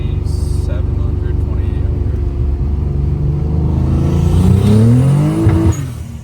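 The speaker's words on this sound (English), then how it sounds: "It just starts to light up the tires." Turbocharged BMW E36 with an M52B28 inline-six and 8HP70 automatic pulls hard in third gear, engine note rising steadily and loudly as the tires spin, then cutting off abruptly near the end.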